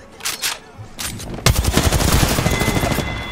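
Continuous automatic gunfire in the battle royale game Apex Legends, a dense rattling stream of rapid shots starting abruptly and running on loudly to the end, preceded by a few softer game sounds.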